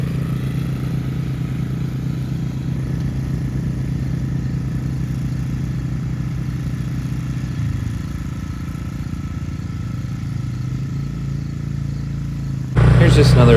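Swisher mower pulled behind a quad through a pasture, a steady mid-pitched engine drone with rhythmic mechanical chatter, loud and close, shifting slightly partway through and ending in a sharper burst.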